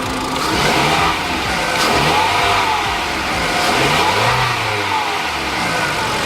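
A car engine revs up steadily under acceleration, a loud continuous mid-pitched drone with the pitch climbing and wavering, heard alone without speech.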